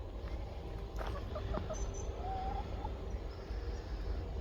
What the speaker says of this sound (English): Chickens are still chickening.